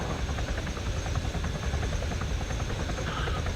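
Helicopter rotor and engine in a multiplayer video game, a steady loud droning whir with rapid rotor beating that runs unbroken throughout, no voices over it.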